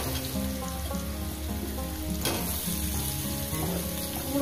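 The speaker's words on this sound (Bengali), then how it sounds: "এরপর দিয়ে দেবো কুমড়ো" Potatoes and pumpkin frying in a pan produce a continuous close crackling sizzle, dense and even like rain on a surface, with a slight swell midway.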